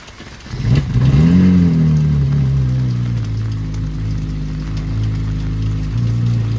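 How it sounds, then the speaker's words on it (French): A Ferrari 458 with a blue exhaust fires up with a sharp rev that swells and settles into a deep, steady idle, loud and close in an outdoor parking lot. "la 458 à droite, échappement bleu va démarrer"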